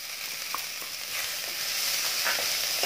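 Chopped tomatoes land among vegetables frying in a pan over a high flame for street-style veg chowmein, giving a loud, steady, unbroken sizzle that builds slightly, with no talking.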